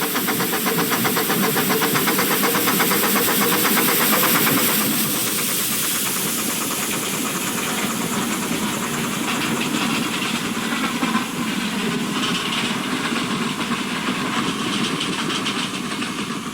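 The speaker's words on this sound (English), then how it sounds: "Number 8 is seen again departing New Romney with a train bound for Hythe." Steam locomotive Number 8 departs New Romney with a train bound for Hythe, giving a rapid, even exhaust beat over loud, continuous hissing steam and engine noise that eases after a few seconds.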